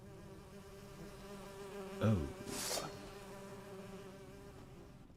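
Bees buzzing in the video game Witcher III Hearts of Stone, a steady insect drone with harmonic whine running throughout, alongside a brief spoken exclamation midway.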